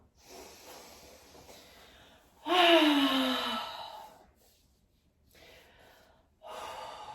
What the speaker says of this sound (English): Deep inhale. Open mouth, exhale.